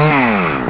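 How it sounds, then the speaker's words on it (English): A short chainsaw sound effect plays as a podcast award sting: a loud, buzzy engine whine that slides downward in pitch for under a second, with no voices over it. "that is with the Chewbacca Chainsaw of the Week Award"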